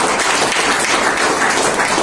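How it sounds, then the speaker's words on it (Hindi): Dense applause from a large audience at a company event honouring its managing director, a steady wash of many hands clapping for the whole stretch without a pause. "जोरदार तालियां होनी चाहिए"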